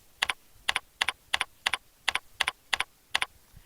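Typing on a computer keyboard while entering a name and email address during webinar setup: a steady run of paired, crisp key clicks, close and fairly quiet, with no talking.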